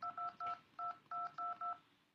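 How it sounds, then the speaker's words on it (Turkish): A telephone gives a quick series of dual-tone beeps, about seven evenly spaced electronic pulses, close and fairly quiet, with no talking over them. "yine ötmeye başladı telefon ya"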